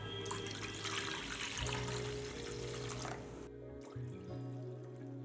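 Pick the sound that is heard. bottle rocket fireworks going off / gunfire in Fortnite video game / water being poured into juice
water being poured into juice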